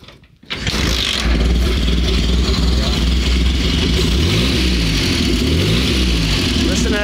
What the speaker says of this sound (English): It'll sit there and idle just all day.